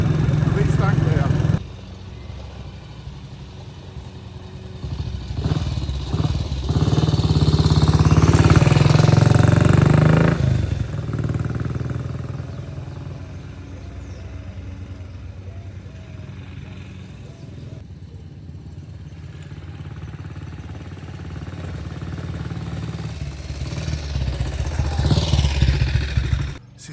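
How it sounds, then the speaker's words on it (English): A 1959 BSA motorcycle rides along old B roads and ancient tracks of East Anglia, the engine droning steadily with a swell of louder revving in the middle, mixed with wind rush and someone talking over it. "So my 1959 BSA is ideal for simply riding these old B roads, ancient tracks of East Anglia."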